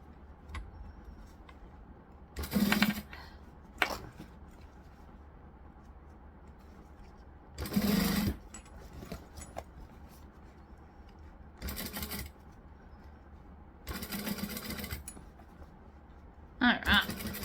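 A domestic-style sewing machine stitches a bag over its strap connector in several separate bursts of rapid mechanical whirring, each lasting a second or so, with quieter pauses between and a low background hum.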